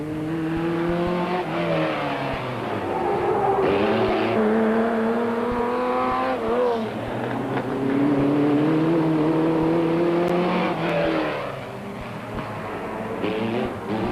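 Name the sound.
off-road race cars racing in Roof of Africa rally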